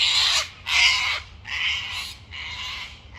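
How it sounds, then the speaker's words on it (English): Cockatoos call outdoors with four harsh, raspy screeches in a row, each about half a second long, loud and fairly close, with no voices. "Those cockatoos are having a wonderful time too."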